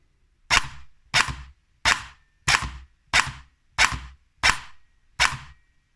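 An S&T PPSh airsoft gun fires single shots, eight sharp, evenly spaced cracks about 0.7 seconds apart, each with a short mechanical tail, close and clear against near silence.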